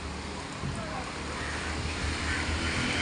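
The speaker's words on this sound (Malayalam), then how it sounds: "നല്ല ഉഗ്രം കാറ്റ്" Strong wind roars continuously and loudly, a dense gusty rush buffeting close by without a break.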